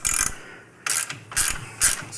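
A ratcheting Allen wrench loosens a bolt on a 2023-2024 touring motorcycle during a Ciro Chicane lineup install, four short, sharp bursts of close clicking separated by brief pauses, with no talking.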